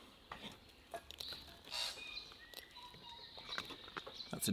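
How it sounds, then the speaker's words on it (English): A tui bird calls near a campsite with a dog, giving a few short, bright chirps and clicks over quiet outdoor ambience and faint patter. "That's a tui, in case you were wondering what that noise was."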